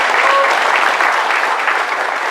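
Audience at an ecommerce conference in the Netherlands breaks into dense, loud applause that holds steady and even throughout, with no voices rising above it.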